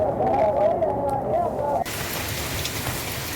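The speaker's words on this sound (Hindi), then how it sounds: "लगातार आधे घंटे तक झमाझम बारिश का दौर चलता रहा" A heavy downpour lasting half an hour in Rajasthan: a voice talks over the first half, then a dense, steady rain hiss carries on alone.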